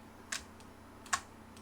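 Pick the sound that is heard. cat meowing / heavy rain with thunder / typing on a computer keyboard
typing on a computer keyboard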